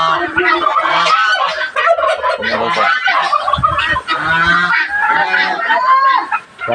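Several small turkeys gobble close by during breeding season in rapid, warbling bursts, overlapping one another with brief pauses between calls.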